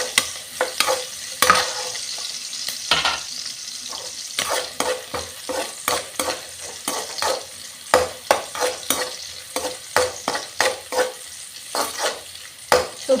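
Bombay duck (bombil) fried in a pan for a Tulu-style sukka, with continuous sizzling broken by repeated scraping strokes of a spoon stirring, steady and close throughout, with no voices.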